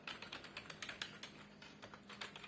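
Rapid keystrokes on an L-SHARK K35 LED keyboard used with a laptop, a quick irregular run of close, light clicks with no voices.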